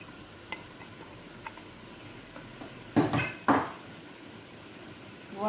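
Rice stuffing mixture for mahshi being stirred in a pot with tamarind paste, faint scraping under a quiet background, then two louder clattering scrapes of the spoon against the pot.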